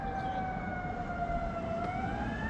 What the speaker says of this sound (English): Ambulance is coming this way